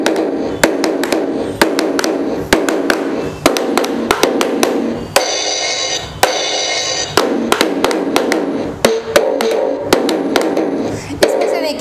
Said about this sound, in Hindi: ड्रम्स बजा करके दिखाती हूँ।